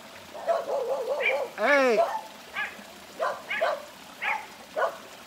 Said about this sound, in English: Anytime a dog runs out there on the road, they start barking.